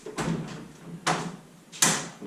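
Doors on a Ford Edsel being shut, three distinct thuds spaced across a couple of seconds, each a sharp broadband hit with a short decay, the last the loudest, in a quiet garage-like space with no talk.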